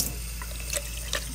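Cold tap water running into a cup in a brine shrimp hatching setup, a steady splashing stream with a couple of brief bright gurgles.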